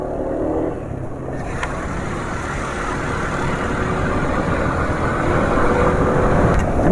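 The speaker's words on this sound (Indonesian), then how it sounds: "Ya ini suara mesinnya asak-asak ya" A motorcycle engine running rough on Meditran LE Ultimate 15W40 oil gives a loud, steady, uneven chugging idle. It is heard up close and alone, with no voices.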